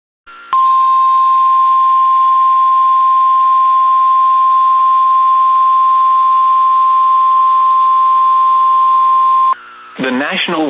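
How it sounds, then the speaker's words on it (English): A loud, steady electronic tone from a NOAA Weather Radio warning alarm on an emergency alert system broadcast holds unbroken for about nine seconds, then gives way to a broadcast voice. "This concludes the test of the NOAA Weather Radio Warning Alarm and Emergency Alert System."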